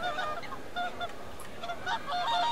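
Swans call from a small salt-marsh pond where a pair nests every summer, heard as a run of nasal, honking calls in an open outdoor setting, fairly distant and steady.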